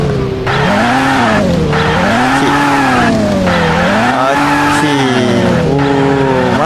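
Car drifting in the mobile game Car Parking Multiplayer, a loud continuous tire squeal whose pitch swoops up and down in waves as the car slides, with the engine droning underneath and a voice speaking over it.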